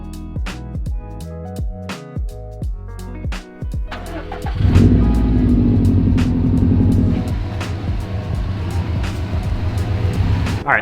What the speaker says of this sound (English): we're gonna pull Bobbi's car in the shop